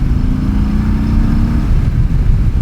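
A 2021 Harley-Davidson Sport Glide with a 107 engine, ridden on the road, gives a steady, loud, low engine rumble that holds throughout without any talk over it.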